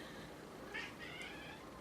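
A faint house cat gives a short, soft meow, brief and distant, over a steady background hiss.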